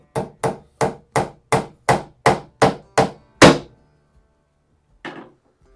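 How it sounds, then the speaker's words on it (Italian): A hammer driving a nail into a wooden board: ten sharp, evenly spaced close blows, the last one heavier, then silence and a faint final knock. "inchiodiamo e magari per stanchezza o perché a causa dell'età magari non ci vediamo più bene, con il martello andiamo ad ammaccare il legno proprio vicino al chiodo"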